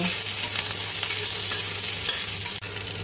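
Stirring in a frying pan as green chillies cook in a little oil for a Bengali lati and prawn dish, a steady close sizzle with scraping spatula strokes running throughout, a brief dip near the end.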